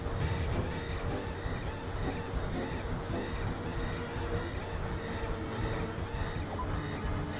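A train rumbles steadily in the video game Final Fantasy 7, a constant rolling mechanical drone with faint rhythmic clatter, no voices over it.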